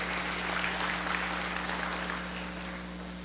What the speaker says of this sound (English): Let's give Heather an applause.